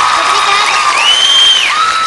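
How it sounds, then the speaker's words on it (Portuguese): An audience stands and applauds a young Brazilian girl singer, dense sustained clapping and crowd noise throughout, with a bright sustained tone over the applause. "todo mundo de pé te aplaudindo"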